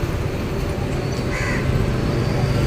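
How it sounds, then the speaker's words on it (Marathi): A crow caws a few times near Shivad station in Navi Mumbai, faint over a constant loud outdoor rumble of traffic. "कावळा ओरडतो"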